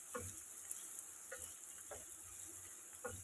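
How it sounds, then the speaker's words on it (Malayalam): Two medium onions, sliced lengthwise, sauté in hot coconut oil with a faint, even sizzle, broken by a few soft, spaced stirring scrapes. "വെളിച്ചെണ്ണ ചൂടായി 2 മീഡിയം സൈസ് സവാള നീളത്തിൽ അരിഞ്ഞതിട്ട് കൊടുക്കാം"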